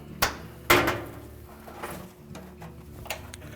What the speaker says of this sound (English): then we'll open the door